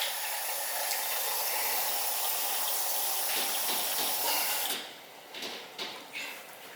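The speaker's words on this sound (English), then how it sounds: "we're gonna add 4 cups of water" Cold water gushing steadily from a tap into a pot of yams, a loud even rush that stops after about five seconds, followed by a few light knocks.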